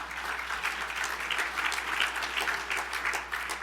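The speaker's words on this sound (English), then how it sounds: "that's worth a round of applause" An audience at a business hall of fame ceremony applauds, dense sustained clapping at even strength for the whole stretch.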